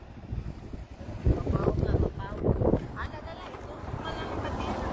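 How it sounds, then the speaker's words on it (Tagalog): Strong wind buffets the microphone in a steady low roar, with indistinct voices briefly rising over it. "Hangin lagi kaayo."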